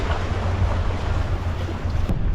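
Steady sailboat engine rumble beneath rushing wind and water noise as the boat motors through waves in a Tuamotu atoll pass against the current, continuous and fairly loud.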